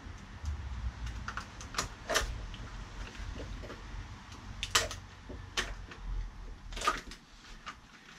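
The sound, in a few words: cutting off an old CV joint boot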